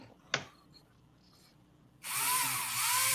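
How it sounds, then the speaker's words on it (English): A small power drill working a part of a hobby model kit starts up partway through as a loud, steady high whine, after a single faint click and a quiet stretch. "I'm drilling."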